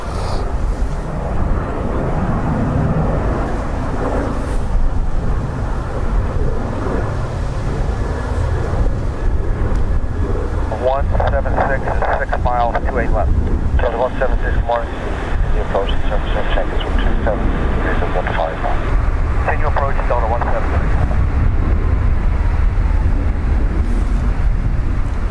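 An airliner lands at Dublin Airport, a broad, steady roar from a distance under gusty wind noise, with people talking throughout.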